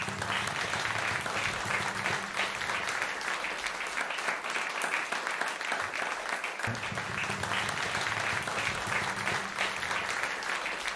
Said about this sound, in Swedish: Så att jag tycker ni ger alla som har jobbat med det här projektet en stor applåd till att börja med.